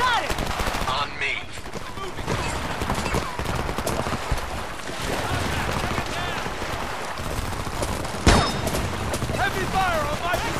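Dense video-game combat gunfire in Homefront: continuous machine-gun bursts and rattling shots mixed with shouted voices over the battle, loud and close throughout, with one heavier blast near the end.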